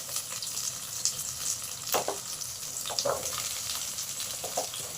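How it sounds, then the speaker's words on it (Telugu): Onions and green chillies fry in a little oil in a pan for sambar, a steady close sizzle with occasional stirring scrapes and small pops, continuous and even, with no talking. "కొద్దిగా ఆయిల్ పోసి ఇప్పుడు ఎర్రగడ్డ కొద్దిగా వేగినాక"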